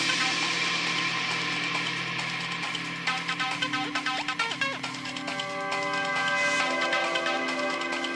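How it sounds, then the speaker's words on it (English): Reversed bell tones swell and shimmer through an acid techno track, layered over sustained synth pads and a steady low drone, with brief plucked bell-like hits clustering midway before the texture builds again, loud and continuous throughout. "this nice reversed kind of bell sound"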